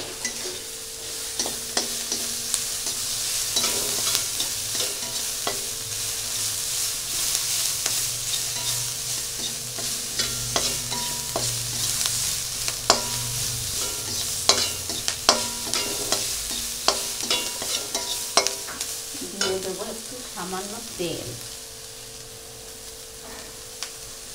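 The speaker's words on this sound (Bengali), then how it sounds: "পেঁয়াজটা একটু ভালো করে ভেজে নিই।" Onion fries in a pan for a spiced egg curry, a steady close sizzle broken by repeated scraping and clinking stirs of a spoon against the pan, with no talking.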